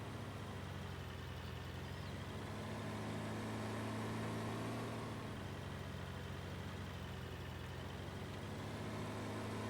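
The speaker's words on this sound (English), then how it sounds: "Driving over city property with my tractor." A tractor engine in the farming game Farming Simulator 19, a steady low rumbling drone driving across a city property, continuous and fairly even in level with no talk over it.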